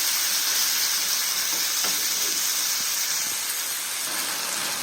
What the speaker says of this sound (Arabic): كده نزلت بالفراخ في الطاسه وهي سخنه.